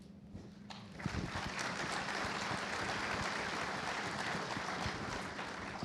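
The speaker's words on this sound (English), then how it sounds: "So I just want to give these folks a huge round of applause for the commitments that they've made." Audience at an energy summit panel with oil and gas producers breaks into loud, sustained applause, a dense wash of many hands clapping steadily after a brief pause, no voices over it.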